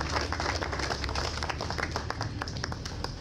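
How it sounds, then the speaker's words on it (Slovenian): Audience applause at a veterans' Day of the Fighter commemoration in Portorož, a steady mass of clapping heard from some distance in a reverberant hall, fairly quiet but continuous for the whole stretch. "Aplavz za vse."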